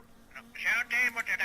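A telephone rings in My Summer Car, a nasal, buzzing ring repeating in short bursts over a low hum, fairly close.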